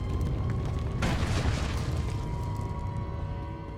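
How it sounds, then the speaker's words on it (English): A deep, rumbling explosion inside a cavern in the video game SWTOR, a heavy boom that bursts in about a second in and then rolls on as a long, slowly fading rumble, with no speech over it. "That explosion made the cavern unstable."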